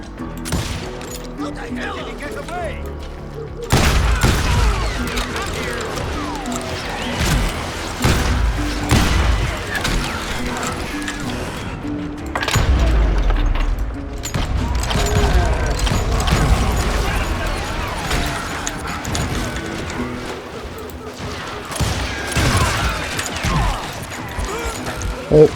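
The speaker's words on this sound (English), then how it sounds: "Oh, getting shot at." Enemies firing at the player in the Call of Juarez: Gunslinger Western shootout, repeated loud bangs and thuds in irregular bursts, with a person talking throughout.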